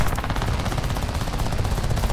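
Rapid machine gun fire from an enemy fighter in the War Thunder air combat game, a loud, dense stream of shots rattling continuously over engine drone.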